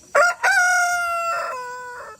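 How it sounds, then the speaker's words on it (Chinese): A rooster perched on a person's hand crows once at close range, a loud, clear cock-a-doodle-doo that opens with two sharp notes and ends in a long, steady, fading call. "站在手上打鸣这一点一点都没变"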